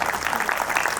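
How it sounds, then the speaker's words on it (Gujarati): A crowd at a religious Jain upadhan tap ceremony claps in a brief, steady patter of applause, close and moderately loud. "એકવાર ફરી તાળી પાડજો"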